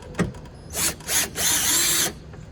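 A power tool drives a liftgate strut bolt on a Toyota Highlander in three short, loud whirring bursts, the last one longest, each with a sharp start and stop, close by and with no talk.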